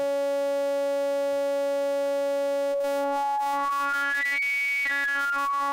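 A synthesizer tone with a stack of resonating harmonics holds steady, then its upper partials sweep up in pitch and dip back as the sound pulses; no voices.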